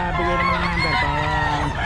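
Chickens, roosters and other fowl for sale at a poultry market in Bocaue, loud and close, with overlapping honking and crowing calls that continue steadily through the clip and no talk on top.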